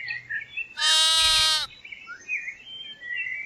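A cartoon sheep on a kids' farm animal programme gives one loud, drawn-out bleat of about a second, with light chirping bird-like calls before and after it.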